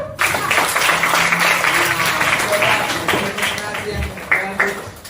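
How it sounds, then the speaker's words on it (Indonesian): A group applauds with steady clapping throughout, fairly loud and continuous, with some voices mixed in. "Tepuk tangan."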